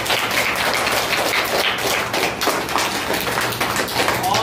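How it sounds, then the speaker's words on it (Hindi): Schoolchildren in a school room clap together in dense, continuous applause of many hands, loud and close, with voices mixed in. "ताली बजाइए।"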